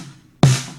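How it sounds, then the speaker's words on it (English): One dampened snare hit from the Easy Drummer Southern 70s Soul Kit, a short, muted crack that decays quickly. "and that's the snare. But it's the dampened snare."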